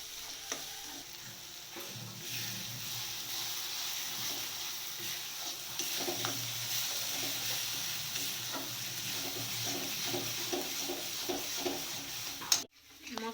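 Chilli and turmeric spices fry in a pan for a drumstick and potato masala dish, with a steady close sizzle and stirring scrapes throughout, then a brief clatter near the end.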